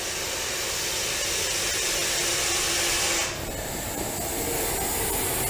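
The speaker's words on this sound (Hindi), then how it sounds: "हुंकार सुन सकते हैं, जिस तरह कुकर की सीटी हो उसी तरह आवाज" A Russell's viper gives a loud, steady hiss like a pressure cooker whistle. It holds for about three seconds, then cuts off abruptly into a quieter background.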